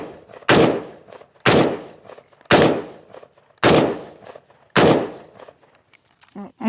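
Five loud, sharp SKS rifle shots ring out one at a time, about a second apart, each followed by a short decaying echo, with a brief metallic clatter near the end.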